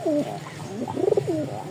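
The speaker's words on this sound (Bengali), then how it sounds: "এই যে মোট 3 পিচ কবুতর আছে" Rajshahi flying pigeons kept for sale coo softly nearby in a few short, rolling phrases, with no voices.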